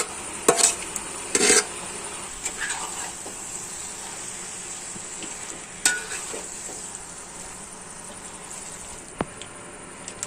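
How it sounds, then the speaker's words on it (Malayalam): Chicken masala fries in coconut oil in a pan under a quiet, steady sizzle, with a few sharp scrapes and clinks of stirring scattered across it and no talk. "നന്നായിട്ട് ഒന്ന് ഇളക്കി കൊടുക്കാം"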